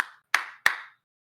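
A single person clapping hands three times at a meeting to call a gathered room to order, crisp close claps spaced evenly about a third of a second apart, then silence.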